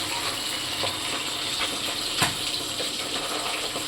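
Hilsa fish sizzles and crackles steadily as it fries in a pan, a dense hiss with scattered faint pops and one sharper crack, continuous and close throughout.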